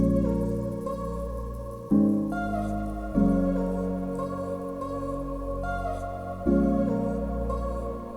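Slow, emotional chord progression on piano layered with a melody, deep bass and a sustained atmospheric drone, with four chord changes each swelling in and lingering, full and warm with no voices.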